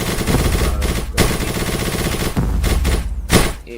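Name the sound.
minigun firing in a Street Fighter video game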